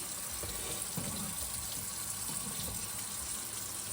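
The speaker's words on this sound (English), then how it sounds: "I'm just washing the oil off right now" Tap water running steadily over a Gold Dollar razor blade to rinse off oil, a close continuous splashing gush into a sink with no voices.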